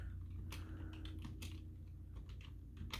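Fingers tap out a short query on a computer keyboard, a quick irregular run of close, crisp key clicks with small pauses between bursts, over a low steady room hum and no talking.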